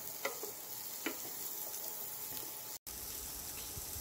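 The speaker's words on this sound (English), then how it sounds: "And then you're gonna mix the cauliflower into the butter." Cauliflower being stirred into melted butter in a pan, a soft steady sizzle with a few brief scraping clicks of the spoon and a momentary dropout near the end.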